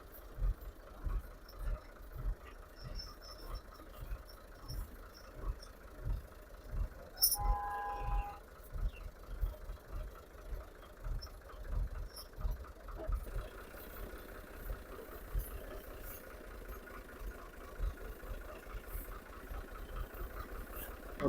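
A tractor engine runs steadily as it hauls a trolley loaded with paddy that is stuck in a roadside ditch, a low rhythmic chugging throughout with a brief higher mechanical whine partway through.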